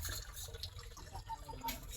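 Water poured out for a goat to drink outdoors near a house, a steady splashing trickle with faint drips, moderately close and continuous for two seconds amid light background noise.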